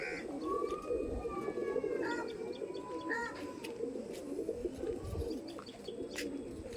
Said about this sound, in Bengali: আজকে পায়রাগুলো ছাড়লাম, 9টা নর পায়রা ছেড়েছি